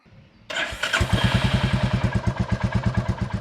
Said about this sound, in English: let's head outside and get the bike fired up